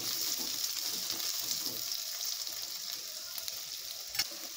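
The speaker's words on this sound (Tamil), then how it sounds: "இப்போ வெங்காயம் நல்லா வணங்கிருச்சு" Onions and curry leaves sauté in a pan for homemade capsicum rice, giving a steady, close hiss of frying and sizzling with occasional stirring scrapes.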